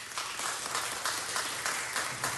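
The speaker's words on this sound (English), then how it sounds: "Let's give him a round of applause." Applause in a council chamber as a newly appointed Croatian Consul General is welcomed forward: steady, dense clapping from a seated crowd that holds at an even level throughout, with no voices over it.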